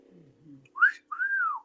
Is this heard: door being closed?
no